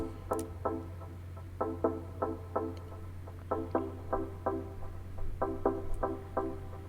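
Three punchy layered synth stabs hit together in syncopated bursts above a constant low drone, bright and buzzy with quick decays.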